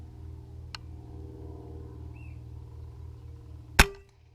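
A single sharp FX air rifle shot cracks out near the end, hitting a ground squirrel at 67 yards. Before it comes a soft click, and a steady low outdoor hum runs throughout.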